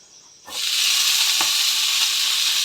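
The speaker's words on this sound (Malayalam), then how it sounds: "ഇവിടെ കടുക് പൊട്ടിയിട്ടുണ്ട്" Hot oil with mustard seeds suddenly erupts into loud, steady sizzling and spluttering after a quiet moment, close and continuous, with a faint pop midway.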